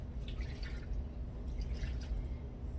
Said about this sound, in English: So I'm just gonna add a cup of water.